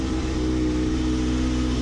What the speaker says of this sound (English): Cold start, so I'll let it warm up a bit.